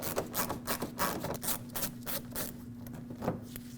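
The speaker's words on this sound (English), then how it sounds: "For me, it's a Phillips head screw that holds them on, so I'll remove this." A Phillips head screw is backed out of fender flare trim on a 2009-2010 Dodge Ram 1500, heard as close, repetitive rasping turns with a steady rhythmic scrape over a faint constant hum.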